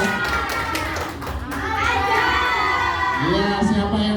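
Schoolchildren in a classroom cheer and shout together in a loud, sustained burst of young voices for classmates on the podium, the noise swelling and carrying on with adult talk mixed in.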